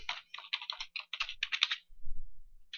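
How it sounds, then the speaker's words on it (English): Quick bursts of keystrokes on a computer keyboard as an IP address and port number are typed into a browser address bar, close and clear, followed by a short pause with a low hum before one more keystroke. "we will need to type that in our address bar"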